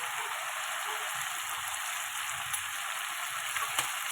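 Katla fish sautés with sour yogurt in a pan, producing a steady, dense frying hiss close up and without interruption.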